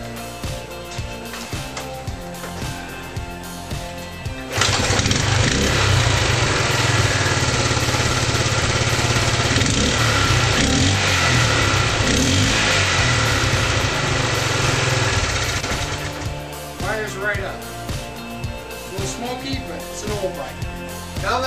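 A motorcycle with a freshly set points ignition fires up and runs, a loud steady engine drone that lasts about eleven seconds before cutting back to quieter ticking and handling sounds, with a voice talking around it.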